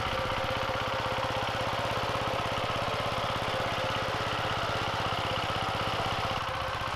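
A Tobatta walk-behind tractor tiller runs on a vegetable farm near Mogi das Cruzes while preparing garden beds. Its engine chugs in a loud, steady, close rhythm with no pauses.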